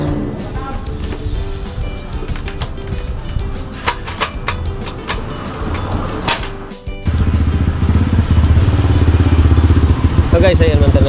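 A GY6 150 ATV engine with a faulty charging system cranks with clattering starter noise, then catches at about seven seconds and settles into a loud, steady, close running idle while someone talks.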